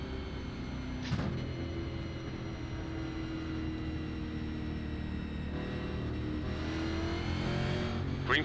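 Race car engines in the iRacing NASCAR video game during a 1987 NASCAR Legends race at Richmond: a continuous, fairly loud engine drone with pitch shifts and brief sharp transients, no voices.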